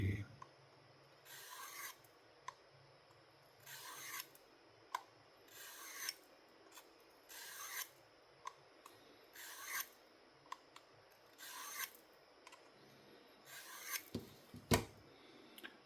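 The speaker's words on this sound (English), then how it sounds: "I'm going to sharpen it because it just doesn't feel very good. I'm going to hit it here on my little work sharp." A knife blade drawn repeatedly across a Work Sharp sharpener, giving about eight evenly spaced rasping strokes with short pauses between them, close and moderately loud with no voices.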